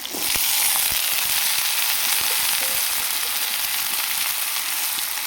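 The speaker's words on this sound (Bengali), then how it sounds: "পেঁয়াজটাকে একটু ভাজিয়ে নিই হালকা করে" Onions and potatoes frying in a pan give a loud, dense sizzle with sharp crackles and pops, steady and close throughout, with no talking.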